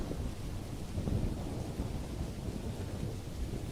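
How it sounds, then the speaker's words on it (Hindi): Dense, steady rain roars without pause, mixed with low gusty rumbling like wind or distant thunder, and no voices. "लेकिन बारिश इतनी तेज हो जाती है"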